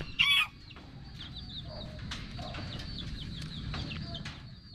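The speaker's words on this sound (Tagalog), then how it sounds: "Grabe mga manok dito" Chickens cluck softly in the background, with scattered short calls over a faint outdoor murmur and a brief sharp noise at the start.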